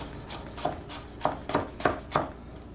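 A knife chopping tomatoes on a cutting board, about seven crisp close taps in an uneven rhythm with no voice.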